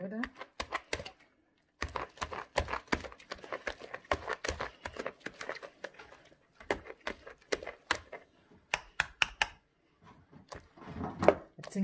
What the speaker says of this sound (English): I will be mixing everything together till they are well combined